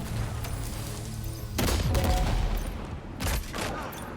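A shotgun fires in the video game Death Stranding 2, with sharp close blasts at about the midpoint and again near the end over a constant rumbling game background.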